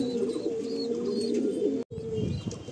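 Pigeons at a pigeon sale coo in low, throaty rolling calls up close, with faint chirps above and a brief dropout before the cooing resumes.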